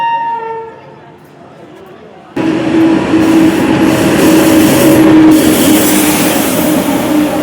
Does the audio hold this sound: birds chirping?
no